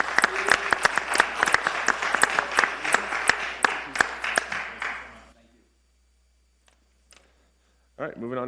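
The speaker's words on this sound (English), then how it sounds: "One more round of applause." A round of applause at a town council meeting, several seconds of brisk clapping from a modest group that dies away into near silence before a voice resumes.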